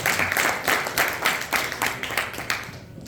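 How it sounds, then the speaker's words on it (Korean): An audience at a New Year workshop claps to welcome a speaker, rhythmic, fairly loud applause pulsing in unison beats before trailing off at the end. "힘찬 박수로 맞이해 주십시오."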